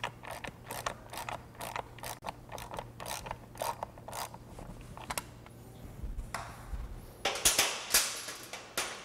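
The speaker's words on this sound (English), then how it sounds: "Take your half-inch wrench and socket and undo the four bolts." A half-inch wrench and socket loosening the bolts on a pump housing, giving repeated close ratchet clicks in short bursts with brief pauses, then a louder metallic clatter near the end.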